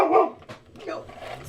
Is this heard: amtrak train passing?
no